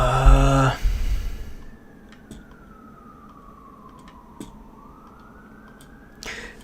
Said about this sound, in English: Can you all hear the siren?